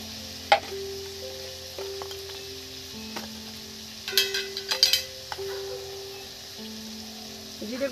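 Turmeric and coriander powder are stirred in a frying pan for Bengali cauliflower curry, giving a soft low sizzle under scattered scraping clinks and a few sharp taps of the spoon against the pan.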